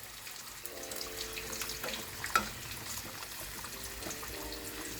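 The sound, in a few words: stirring bati posto with hilsa in pan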